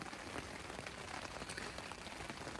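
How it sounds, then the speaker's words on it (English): Steady, solid rain falling on a backcountry campsite, a dense continuous patter on surfaces, close and even, with no voices. "I mean, literally rained all night. Just all night. And it's still raining."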